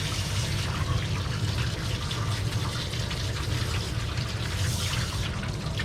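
Water gushes steadily from a tap or sprayer as soap is rinsed off a dog during a home bath, a loud, continuous flow heard up close with no talking.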